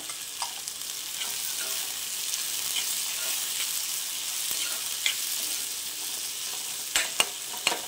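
Green chillies sizzle steadily in hot oil, a continuous crackling hiss with a few sharper pops and stirring clicks near the end.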